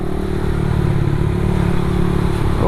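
A 60mm bored-up motorcycle engine, block swap without porting, runs loud and close with a rough, steady throbbing drone and mechanical clatter throughout.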